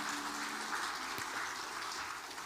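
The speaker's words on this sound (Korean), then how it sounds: "박수해 주시죠." Congregation clapping in a church after a choir's hymn at a Sunday worship service, a steady dense patter filling the room for a couple of seconds without talk.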